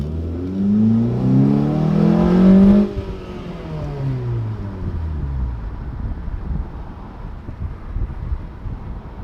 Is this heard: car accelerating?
yes